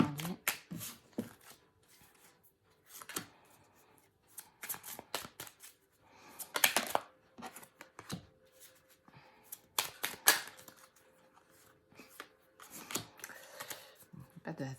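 Oracle cards are shuffled by hand in quick papery bursts of riffling and slapping, coming in irregular clusters with short quiet gaps between them, close and alone without talk.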